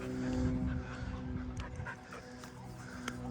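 A dog pants and whimpers close by, audible throughout with a steady rhythm over low background noise.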